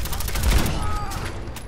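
A short, loud burst of rapid overlapping gunfire in a video game, sustained for under two seconds.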